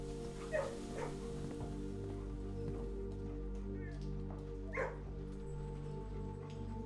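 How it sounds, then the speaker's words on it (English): A dog gives a few yips and whimpers in the background under a steady humming drone, faint and intermittent rather than continuous barking. "Dog."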